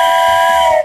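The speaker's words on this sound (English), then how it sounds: "It creates the whistle sound." A toy train whistle blows a single short, loud, steady multi-tone note, held for under a second before cutting off abruptly.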